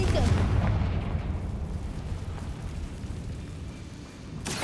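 A Confringo spell blast in the Hogwarts Legacy video game, with a loud booming explosion that rumbles and fades over several seconds, then a sharp burst near the end.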